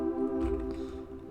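Pluggnb-style chords from a sound font player ring out as one sustained, evenly held harmonic chord that fades slightly toward the end.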